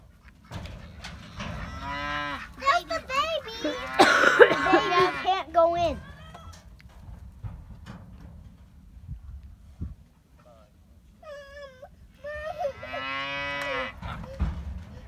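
Steers on a family cattle farm moo loudly and repeatedly in long, drawn-out calls, with a quieter gap in the middle before more mooing. Children's voices and chatter mix in around the animals.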